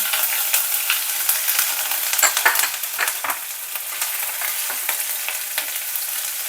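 Garlic, slit green chilli and crushed ginger sizzle steadily in a hot pan, a dense, even frying hiss with occasional crackles and stirring scrapes, fairly close and without talk.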